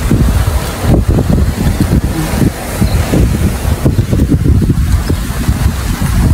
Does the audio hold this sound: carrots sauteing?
no